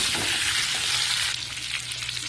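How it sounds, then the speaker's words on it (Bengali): Pointed gourd pieces fry with turmeric in oil, a close, steady crackling sizzle that eases slightly partway through, with light stirring and no voices. "হলুদ দিয়ে একটু লাল লাল করে পটলগুলো ভেজে নেব"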